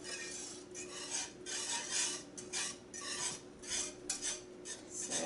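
A spoon scrapes and swirls around a pot of thickening milk-based sauce in repeated short strokes, with soft metallic rasps and clinks at an even rhythm, close and fairly quiet, with no talking.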